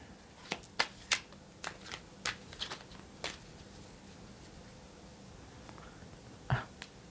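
Tarot cards are shuffled in a series of quiet, crisp riffling snaps and flicks, loosely rhythmic and close up, with occasional pauses and a final louder shuffle near the end.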